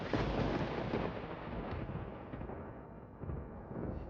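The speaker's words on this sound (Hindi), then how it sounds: "आकाश में जोरदार बिजली कड़की" A loud thunderclap crashes in the sky with a heavy opening burst that rolls and rumbles away over several seconds, swelling again briefly near the end, with no talk.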